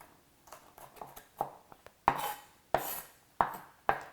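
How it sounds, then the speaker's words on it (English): A knife mincing garlic on a cutting board gives sharp, close chops, a few light taps at first, then four loud, evenly spaced strikes roughly every two-thirds of a second. "And now I'll mince some garlic to put on there"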